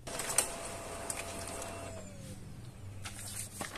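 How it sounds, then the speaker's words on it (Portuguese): An HP Laser M408dn laser printer printing a self-test page gives a steady mechanical whirr with a motor tone that slides downward partway through, plus a few faint clicks and no voices. "Nessa hora vai fazer a impressão do autoteste."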